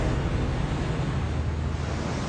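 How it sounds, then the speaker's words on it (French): Large ocean waves rolling in after an earthquake make a steady, heavy roar of surf with a deep low rumble and wind-like hiss, continuous and loud throughout with no voices. "Les vagues sont grosses, très grosses, et elles paraissent sans fin."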